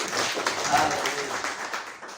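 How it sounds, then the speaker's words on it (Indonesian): A church congregation claps together during a worship service, a dense, steady wash of applause that runs for a couple of seconds alongside voices. "Tepuk tangan dong buat Tuhan"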